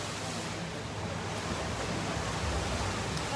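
Boys 200 freestyle race start at a high school swim meet: a continuous broad roar of splashing water and pool ambience, loud and steady throughout.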